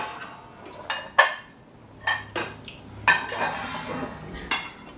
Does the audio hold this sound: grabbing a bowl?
yes